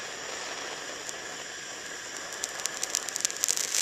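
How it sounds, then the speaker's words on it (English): Natural rough Sleeping Beauty turquoise crackles as it is heated, its sharp pops and snaps quickening over a steady hiss, close and moderately loud. "That is the moisture inside of the Sleeping Beauty turquoise expanding and exploding."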